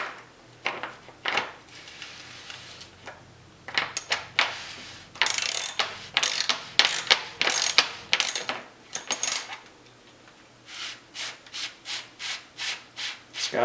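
A bottom bracket cup is unscrewed from a Trek Domane bicycle frame with a Shimano Praxis T47 bracket. A ratcheting tool clicks and grinds in repeated close, loud bursts, with brief pauses between strokes as the long threads turn out.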